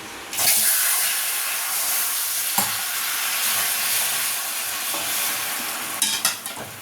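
Water poured into hot homemade caramel for kulfi bursts into a loud, close sizzle and steamy hiss that keeps bubbling and crackling steadily as it is stirred, with no voices.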